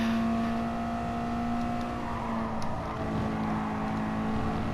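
A Mazda race car in GT Sport at Suzuka accelerates through a left-hander, its engine holding a steady, loud, buzzing tone that climbs slightly in pitch as the power comes on. The engine plays alone, continuous and close, with no talking.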